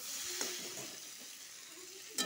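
Sweet pumpkin frying in a pan for a vegetarian dish gives a faint, steady sizzle with a soft clack near the start and another at the end, with no talking.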